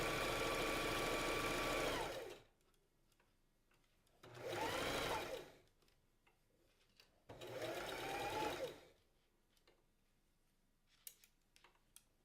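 A sewing machine stitches fabric for a child's newsboy hat in three loud bursts of about two seconds each, with quiet pauses between them and a few faint clicks near the end.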